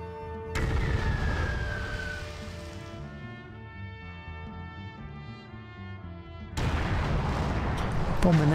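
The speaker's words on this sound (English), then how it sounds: "Bombing that thing to pieces" Bombing explosions in the naval war game Uncommon Valour, heavy broadband booms opening loudly, fading into a softer rumbling stretch with tonal game sounds, then another loud burst of blasts near the end.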